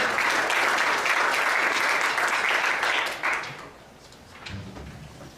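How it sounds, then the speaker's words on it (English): Sustained audience clapping welcomes a musician to the stage at a live jazz performance, steady and full for about three seconds before fading out, followed by a quieter tail with some shuffling and a brief low thump. "So give him a round of applause."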